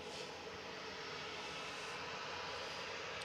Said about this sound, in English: I think it's VUFO, Virgin taxiing out